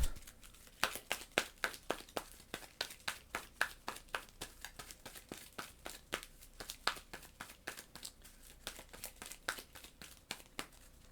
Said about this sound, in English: let's shuffle the bot's deck up